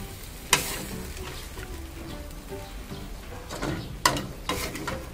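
Shark fish sizzles steadily in hot oil in a wok, a continuous close frying hiss with a few sharper crackles and stirring clatters, no voices.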